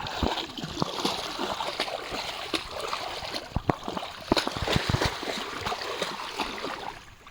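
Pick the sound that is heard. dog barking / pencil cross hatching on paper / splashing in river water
splashing in river water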